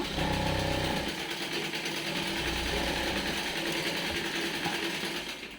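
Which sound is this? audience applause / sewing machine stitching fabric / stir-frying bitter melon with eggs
sewing machine stitching fabric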